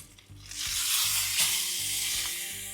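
A flipped picanha steak sears on a hot surface after a reverse sear, its sizzle swelling into a loud, steady hiss close up, with faint low hum beneath and no talking.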